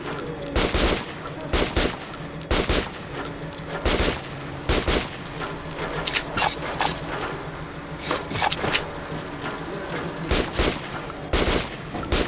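Rapid gunfire in the video game Metro 2033 Redux: repeated sharp bursts and single shots crack throughout, close and loud, with no speech.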